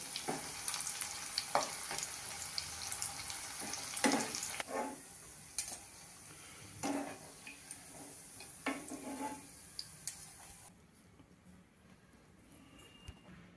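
An oats cutlet fries in a pan with a soft, low sizzle, broken by irregular clicks and scrapes as it is handled and turned.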